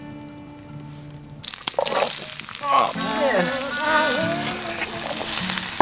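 Shakshuka sizzling in a secondhand op-shop frying pan, a steady crackling hiss that starts abruptly and holds loud throughout, with a brief exclamation over it.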